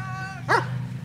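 A single short bark from a dog, sharp and fairly close, cutting across a low steady hum and faint tonal background.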